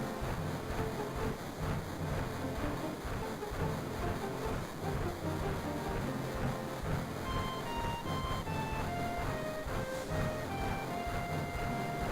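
A train ride in the video game Final Fantasy 7: a continuous rumbling rattle of the moving train runs steadily throughout, with a soft descending melodic line of game music entering in the second half.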